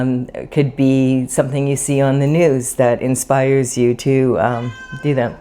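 A pet cat meows repeatedly and close, long drawn-out cries mixed in with a person talking.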